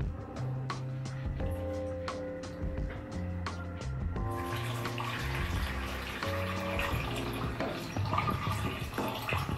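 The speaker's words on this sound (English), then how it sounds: "I'll start pouring." Water pouring into a film developing tank for the wash step of home C-41 colour processing, a steady close splashing rush with tonal ringing from the vessel that grows fuller and brighter partway through as the stream strengthens.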